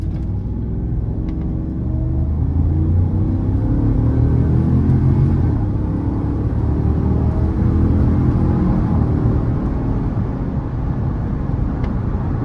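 A 2019 GMC Yukon Denali with the 6.2 engine accelerates at full throttle, heard from inside as a loud, deep engine roar that swells and climbs through smooth shifts for several seconds, with no talk.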